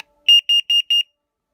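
A household smoke alarm under test gives four short, loud, shrill beeps in a steady rhythm, then falls silent, with no talking.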